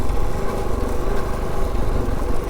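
A Kove 450 Rally motorcycle rides along a hard-packed sandy trail, its engine droning as a continuous loud, rough, low rumble with a steady throb and no break.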